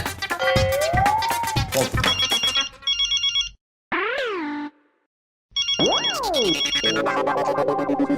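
A loud electronic ringtone plays a busy synthetic melody with rising and falling sweeps and a brief pause in the middle.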